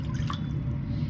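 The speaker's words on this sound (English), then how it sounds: "We're going to add 1 cup of water" A cup of water poured into a cooking pan on a stove, a short watery splash and trickle over a low steady hum, close and fairly loud, with no talking.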